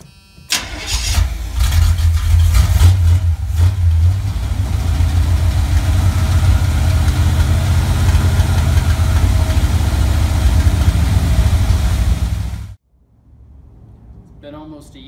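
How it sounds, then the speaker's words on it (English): A C3 Corvette with a DeWitt Performance aluminum radiator and electric fan swap cranks and fires up after sitting almost a year, then idles loudly and steadily close by for about twelve seconds before cutting off abruptly. "Been almost a year since this car has fired up. Boom, it fired up."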